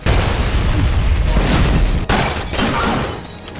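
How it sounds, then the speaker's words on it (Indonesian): A gunshot blast in a film scene where a colonel is hit, sharp and explosive with a shattering crack near two seconds, set amid loud, dense action noise throughout. "Di tengah perbincangan, seorang penjaga terjatuh dari atas mereka dan tidak lama tembakan menyerang mengenai Colonel Johnson."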